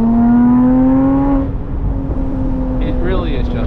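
Porsche Boxster Spyder with a manual gearbox, its engine holding a steady high drone that falls away after a downshift, then settles into a lower hum with a brief rising blip near the end, heard from inside the car.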